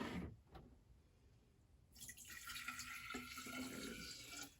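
Water pours steadily into a container to make a hydroponic nutrient mix for an Ivation countertop garden, starting abruptly about halfway through as a close, continuous splashing stream after a quiet opening.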